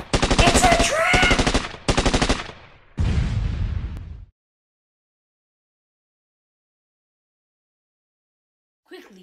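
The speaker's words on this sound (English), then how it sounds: "Why are they firing on us?" Battle gunfire, with dense machine-gun bursts and heavy shots in a loud, rapid stream for about four seconds. Then silence, and a brief faint sound near the end.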